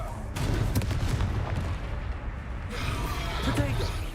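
The Confringo blasting spell going off in the video game Hogwarts Legacy: rumbling booms and cracking blasts over a dense battle din, with voices calling out among the impacts.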